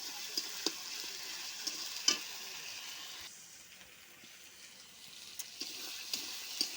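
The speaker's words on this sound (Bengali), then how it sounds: "রসুনটা একটু ভেজে নেব" Garlic frying in a pan after onions, a soft steady sizzle with sharp scraping stirs and clicks scattered throughout, quieting briefly midway before picking back up, no talking.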